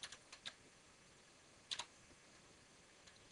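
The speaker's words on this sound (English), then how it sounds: "type the name" A few faint, sparse keystrokes on a computer keyboard while entering a file name in frame analysis software, scattered clicks in a quiet room.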